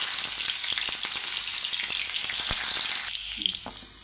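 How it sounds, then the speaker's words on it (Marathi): Green chilies dropped into hot oil in a wok for fried rice, giving a steady, close sizzle with scattered crackles. The hiss eases a little near the end as a few sharper pops come through. "आता कढईमध्ये तेल गरम झालेलं आहे, त्याच्यामध्ये आता आपण"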